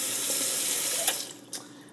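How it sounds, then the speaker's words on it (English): Kitchen tap runs steadily while warm water fills a container for homemade laundry detergent, a close, even hiss that cuts off near the end with a couple of small splashes. "Sorry you hear the faucet in the background."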